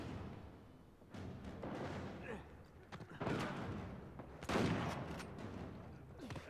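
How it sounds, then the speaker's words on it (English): Blind-fire gunshots in Uncharted 4 crack out in several scattered bursts, some loud and close and others quieter, while a player talks over the combat. "Blind fire."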